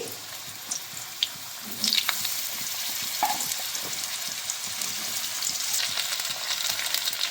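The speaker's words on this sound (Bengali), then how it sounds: "তেলটা গরম হয়ে গেছে এবার আলু দিয়ে দেবো" Two potatoes go into hot oil after a couple of light clinks, and a close, steady sizzle swells up and carries on with occasional spatters.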